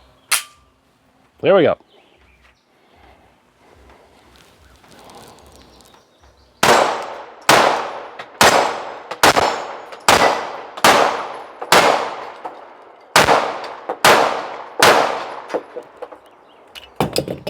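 A pistol with a red dot sight fires at steel targets 10 yards away: about eleven loud, close shots in a fast, steady string, each with a metallic ring, after a brief spoken phrase.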